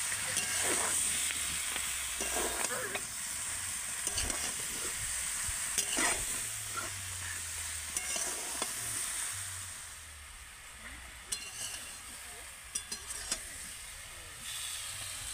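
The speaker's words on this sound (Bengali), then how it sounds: "মশলার সাথে এঁচড়টাও কিন্তু কিছুক্ষণ কষিয়ে নিতে হবে এইভাবে" Raw jackfruit cooking down with spices in a pan, with a continuous frying hiss broken by repeated scraping stirs of a spoon, close and alone.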